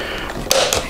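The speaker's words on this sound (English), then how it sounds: "take a little bitty flathead screwdriver, just start prying that off" A small flathead screwdriver pries at the inner fairing cover of a Harley-Davidson Street Glide motorcycle, making brief plastic creaks and two sharp clicks as the tabs pop loose, up close with no talking.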